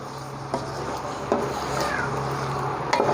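A spoon stirs yogurt into chicken pulao in a pot, with steady low sizzling and a few sharp scrapes against the metal at irregular intervals, close and fairly quiet.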